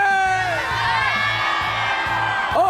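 A large esports arena crowd at a Mobile Legends MSC finals cheering and whooping for ONIC, a loud continuous roar with rising shouts under an announcer's voice.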